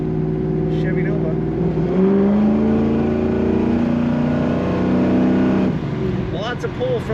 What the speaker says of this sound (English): Lots of pull from that engine, a nice amount of power for this car.